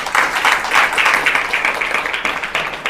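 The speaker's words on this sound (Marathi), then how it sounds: "सर्वांनी दत्तधामच्या भक्त मंडळीबद्दल एकदा जोरदार टाळ्या होऊ द्या" Devotees at a Gita Jayanti celebration burst into sustained, dense applause, many hands clapping steadily and loudly throughout with a brief swell near the end.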